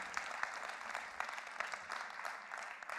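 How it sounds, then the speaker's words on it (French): Audience at a live young-talent showcase concert breaks into sustained applause, a thick, even roar of many hands clapping that holds steady throughout, with a few sharper claps popping out of the mix. "On peut les remercier. On peut les applaudir."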